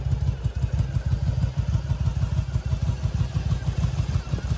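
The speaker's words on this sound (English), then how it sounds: "2002 V-Star Yamaha 1100 running here" A 2002 Yamaha V-Star 1100 Classic cruiser motorcycle idling, a close, loud, uneven low V-twin lope with a fast rhythmic pulse and light mechanical clatter, no talking.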